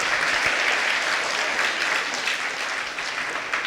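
Loud, sustained clapping from a school audience honoring students who made the district merit list and their guiding teachers, a dense steady crowd applause filling the whole stretch without a break.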